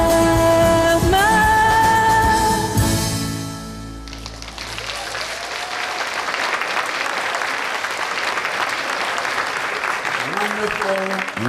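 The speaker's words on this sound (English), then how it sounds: "Let's give her another round of applause." Audience applause after a song at a vegan peace event in Chicago. The music fades out and a broad, sustained wave of clapping from the crowd takes over, with a voice starting near the end.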